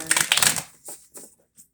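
A tarot deck is shuffled by hand, a quick riffling burst of card flicks up front followed by a few brief, softer taps and slides as the cards settle.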